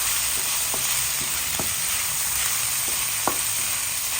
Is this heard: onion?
yes